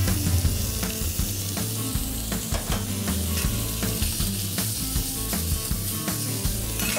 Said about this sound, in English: venison, stir fry. Just throw some olive oil. Throw the meat.